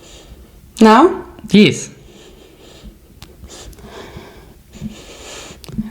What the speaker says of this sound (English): So I want you to take a deep sniff.